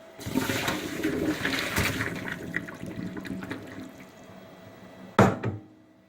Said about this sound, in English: pour out the lamb with the boiling water into the strainer